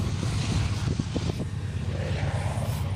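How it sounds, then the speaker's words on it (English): A helicopter passes overhead on a very windy day at a cemetery, a low rumbling drone with pulsing beats in the first half, blended with wind noise. "Sounds like a helicopter, not a train."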